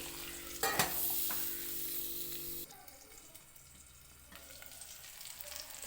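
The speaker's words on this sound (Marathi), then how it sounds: "आता मस्तपैकी मिक्स करून घेते" Eggplant curry being stirred in a pan, a steady sizzling hiss with a few scraping strokes of the spoon, louder at first and then settling into softer frying.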